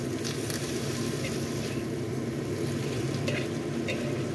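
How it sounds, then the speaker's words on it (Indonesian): Yau mak choi vegetables stir-fry with salted tofu in a hot pan, giving a steady, close sizzle with faint scraping clicks from stirring. "Kita masak, tumis hingga sampai semuanya tercampur merata"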